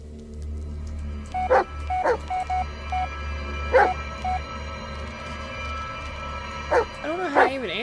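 A dog in the video game Blair Witch gives several short, clear barks and yips in uneven bursts, with a low hum and a whimpering whine at the end.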